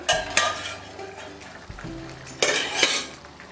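A lid clanks off a cooking pot of snake gourd and black-eyed pea kootu, followed by a metal spoon scraping and clinking against the pot while stirring, with a second sharp clatter near the end.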